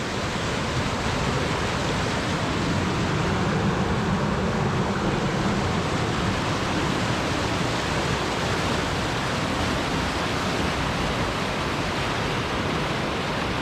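A waterfall on a peaty brown Scottish river roars as a steady, broadband rush of falling water, close and unbroken throughout with no voices.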